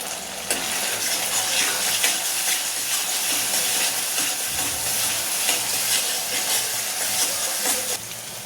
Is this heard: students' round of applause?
no